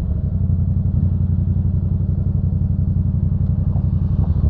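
A Yamaha FZ-07 motorcycle engine drones loudly and steadily up close with a fast, even throbbing pulse as the bike accelerates on the road, and no voices are heard.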